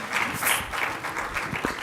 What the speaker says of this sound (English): Ladies and gentlemen, please give them a huge round of applause for their very dedication to learn this subject